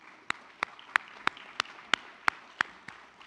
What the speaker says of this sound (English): So let's give him a round of applause for that.